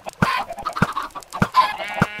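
Chickens clucking in a Minecraft chicken farm, short repeated clucks in an uneven rhythm, close and fairly loud, with no talking over them.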